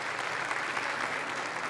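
An audience claps at a Caucasian cultural night in Kayseri, sustained and fairly even applause filling a hall at moderate distance.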